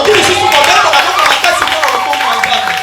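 A church congregation cheers and applauds loudly and continuously, a dense wash of clapping and shouting voices filling the hall without pause.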